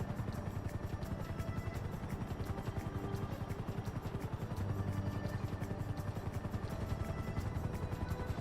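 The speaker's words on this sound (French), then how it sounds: "Hélicoptère bleu, atterrissage au skatepark de Little Séoul." A video game helicopter's rotor thumps in a fast, steady rhythm with a droning engine as it lands at a skatepark, fairly faint and constant throughout.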